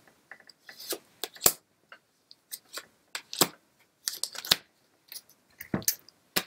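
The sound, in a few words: handling and shuffling Neapolitan cards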